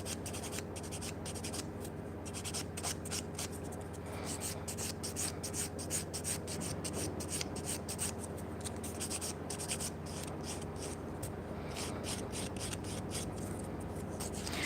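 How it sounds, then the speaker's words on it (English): A nail file works its coarse side back and forth in a steady, continuous rasping rhythm, close and even in level for the whole stretch, with no talking. "I'm using the coarse side of my file to do that"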